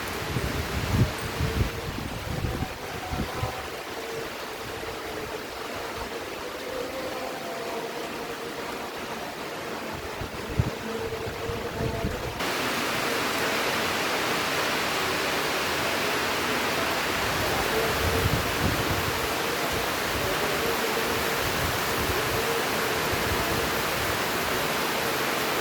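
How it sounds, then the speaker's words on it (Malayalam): Strong wind and rain sweep through trees, including rambutan, as a continuous broad roar and rustle that grows denser and steadier partway through. "അപ്പം നല്ല മഴയുണ്ട്, നല്ല കാറ്റുമുണ്ട്"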